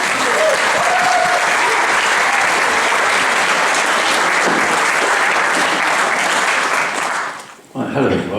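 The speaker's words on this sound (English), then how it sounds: "Can we give a huge cheer for Akiva?" A theatre audience at the Kino-teatr in St Leonards bursts into loud, dense applause with cheering, holding steady for about seven seconds before fading quickly and stopping.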